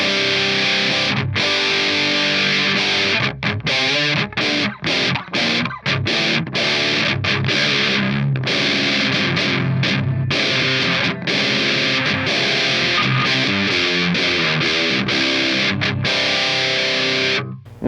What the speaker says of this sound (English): Let's put the filter all the way up at noon, and let's put the distortion all the way up at noon.